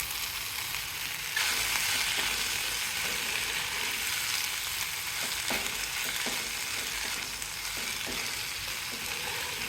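Washed drumstick leaves going into a hot frying pan for palya: steady loud sizzling and crackling throughout, with a few soft stirring knocks and no voices.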